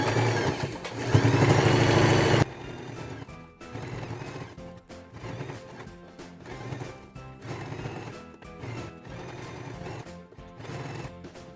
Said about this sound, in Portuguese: dar a volta em toda a peça com um pezinho de máquina